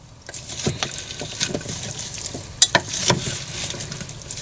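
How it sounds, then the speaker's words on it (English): A spoon stirs a pot of loaded bratwurst stew with corn and broccoli, giving close, wet scraping and sloshing with soft irregular clunks against the pot and a faint sizzling undertone. "Give that a stir."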